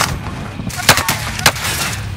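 Call of Duty: Modern Warfare gunfire snaps in a few loud, sharp bursts close by, spaced over two seconds against a dense battlefield background.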